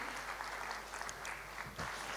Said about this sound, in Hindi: एक बार ज़ोरदार तालियां हो जाए मनीष जी के लिए